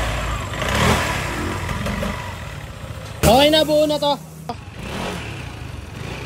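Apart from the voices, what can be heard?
Yamaha XMAX 300cc scooter engine revving after CVT setup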